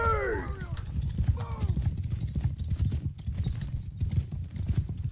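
Many horses gallop in the video game Mount & Blade II: Bannerlord, with a rapid, continuous drumming of hooves, and a horse neighs near the start and again shortly after.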